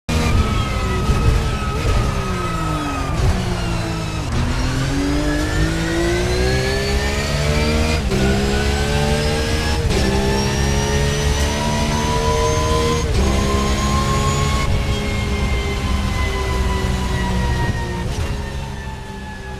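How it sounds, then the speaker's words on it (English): Porsche 911 GT3 992 engine in a racing video game hotlap at Sonoma Raceway, loud and continuous, revving up through the gears with sharp shift breaks and steady high-pitched harmonics, no talking. "That's a track guide Hotlap on Sonoma Raceway with the ACF Porsche GT3 992."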